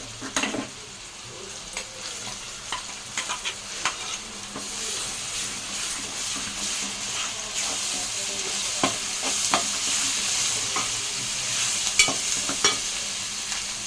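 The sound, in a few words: frying onion paste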